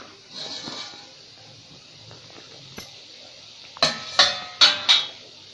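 A metal lid comes off a pot of steamed coriander vadi after fifteen to twenty minutes of steaming, with a soft clink, then four sharp metallic clanks in quick succession over a steady steamy hiss.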